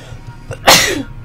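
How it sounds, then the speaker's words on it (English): A single loud, sharp sneeze bursts out in a game scene, preceded by a faint intake of breath and trailing off over about half a second. "Bloomin' sneezes."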